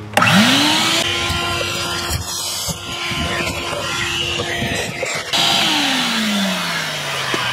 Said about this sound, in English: I'm going to get the vacuum and we're going to clean that out real well.